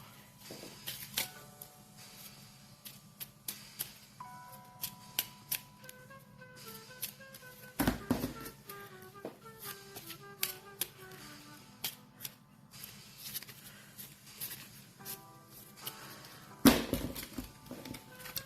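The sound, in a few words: shuffling a deck of board game cards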